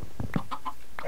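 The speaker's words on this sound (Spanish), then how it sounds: "Muchos pollos trabados aquí, güey." Video-game chickens cluck in a quick run of short, close, clear calls, with no talking over them.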